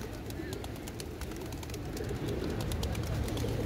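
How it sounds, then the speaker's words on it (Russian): Pigeons coo softly among the crowd noise of Taksim Square in Istanbul, a low steady murmur of birds under busy outdoor ambience. "Вот и голуби в центре Стамбула."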